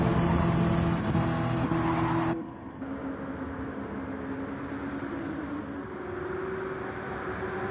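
RC NASCAR race cars running at night, their electric motors making a steady high whine that cuts off abruptly after a couple of seconds into a lower continuous drone from other cars circling further away.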